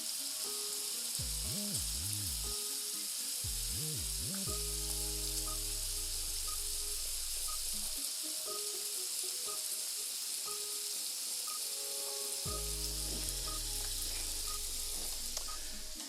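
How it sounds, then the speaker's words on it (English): Steady bacon sizzle and crackle fills the pan continuously, with a few low tonal hums and beeps drifting in the background, no voices. "There's nothing better than the sound of bacon sizzling in the pan."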